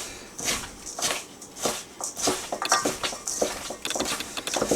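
Butter being worked into dry scone ingredients in a bowl, a run of soft, irregular scraping and rustling strokes, close and fairly quiet, coming in uneven bursts.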